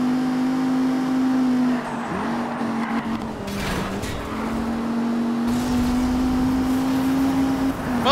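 Lamborghini Super Trofeo race car in Need for Speed Rivals, its engine holding a steady loud drone throughout with small shifts in pitch, a brief tire or gear blip near the middle, and no talk.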